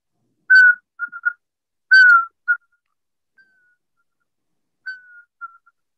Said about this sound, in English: pygmy owls are whistling.